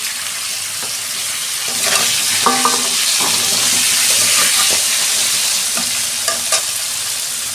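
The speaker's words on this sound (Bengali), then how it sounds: "আলুটা ততক্ষণ ভাজা হোক" Close, continuous sizzling of salted potatoes frying in hot oil, broken by clinks and scrapes of stirring in the pan.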